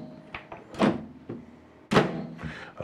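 A microwave oven door under repair is opened, giving two sharp mechanical thunks about a second apart with smaller clicks and rattles between, loud and close with no voice.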